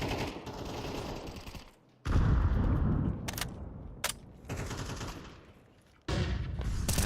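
XM1014 shotgun fire in a Counter-Strike match at a professional tournament, several heavy booming blasts with sharp onsets followed by decaying tails and brief gaps between shots, loud and close.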